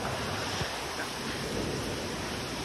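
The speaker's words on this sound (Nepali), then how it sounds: "ल यस्तो दामी छ झर्ना चाहिँ" Steady roaring rush of the Melung waterfall, a dense continuous wash of falling water and spray close to the microphone, loud and unbroken with no voices.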